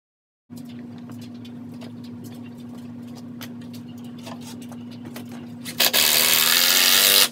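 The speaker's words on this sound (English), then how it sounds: "I'm going to drill down and angle it so that it goes into this other piece here." A power drill bores at an angle through pallet wood into a second piece while framing a range hood. Its motor hums steadily, then roars louder and rougher for the last second or two.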